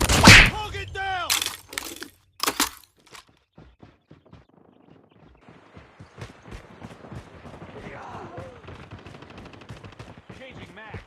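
Gunfire effects from Call of Duty: loud sharp shots open the sequence, then a long run of rapid bursts and cracks with faint voices mixed in.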